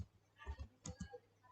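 A handful of keystrokes typed on a computer keyboard while entering a command in Linux Ubuntu 18.04, close and quiet, with irregular clicks in two small bursts.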